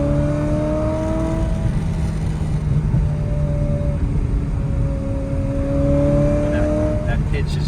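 Ferrari F355 Challenge engine revving on the move inside the car, a steady drone with several rising pitch sweeps as it climbs through the gears, with people talking quietly under it.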